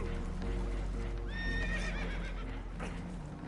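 Spooked horses aboard a damaged boat in Red Dead Redemption 2 let out a clear, shrill whinny under constant low rumbling, with faint hoof clatter and people talking nearby.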